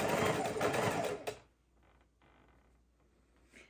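A sewing machine lock-stitches the start of a seam joining quilt pinwheel block pieces: one short, loud, close burst of fast stitching that stops abruptly, followed by near quiet with faint handling noises.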